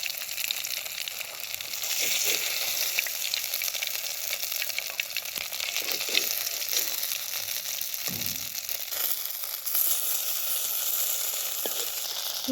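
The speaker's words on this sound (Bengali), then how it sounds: "আমি কিন্তু অল্প আঁচে ভাজছি, যেহেতু মাংস দিচ্ছি, মাংসের জন্য আস্তে আস্তে কিন্তু ভাজতে হবে।" Beef chop fritters fry in oil on low heat, a steady, close, bright sizzle lasting throughout with occasional soft scraping and stirring noises, and no talking.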